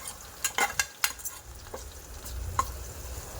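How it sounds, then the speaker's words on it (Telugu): Ginger-onion paste fries in a pan under steady stirring, a soft continuous sizzle broken by several sharp clinks and scrapes of a spoon against the pan. "అల్లం ఉల్లిగడ్డ పేస్ట్ మంచిగా ఫ్రై అయ్యే వరకు అయితే కలుపుకొనే ఉండాలి"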